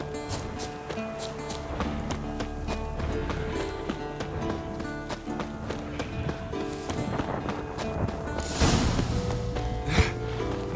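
A warhorse's hooves clip-clop in the video game The Witcher 3, a running rhythmic beat of hoof strikes under a busy game soundtrack of music and effects, with no speech.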